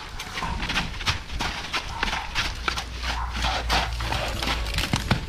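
A horse walking in a riding setting, hooves clip-clopping in a steady, moderately close rhythm over a scuffing background, with faint talk at times.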